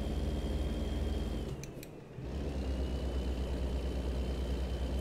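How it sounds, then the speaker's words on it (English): Engine of a Kenworth W900B truck in American Truck Simulator, a deep bassy steady drone with a faint turbo whistle. It dips briefly, as if between gears, then resumes the low rumble with no talk over it. "it seems to have plenty of torque, to be honest, this engine"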